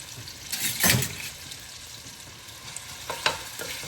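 Garlic paste fries in oil with garam masala for Hyderabadi mutton dalcha, a soft steady sizzle close by, with a couple of louder bursts as it is stirred.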